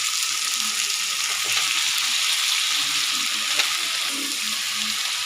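Chicken pieces sizzle steadily in hot oil in a pan with sautéed onions and paste for a Madurai-style chicken gravy, a constant close hiss with faint stirring clatter underneath.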